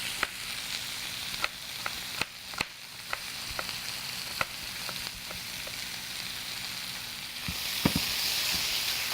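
Shrimp fry in a pan with a steady, bright sizzle that carries all the way through, broken by sharp clicks and taps from stirring, and the hiss swells near the end.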